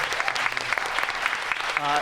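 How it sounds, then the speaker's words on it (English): Crowd applause at a TV writing panel at WonderCon 2022, a steady, full wash of many hands clapping throughout, with a voice faintly under it near the end. "Please give them a big round of applause."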